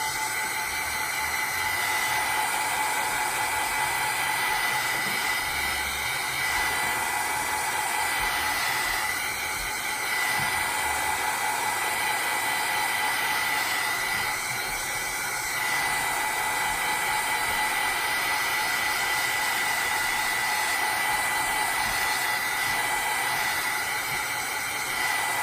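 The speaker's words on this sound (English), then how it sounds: "I am going to give it a quick dry with the heat tool" A heat tool blows a steady, loud whooshing hiss while drying craft paint on a Dollar Tree fall decor piece, running continuously with slight wavering.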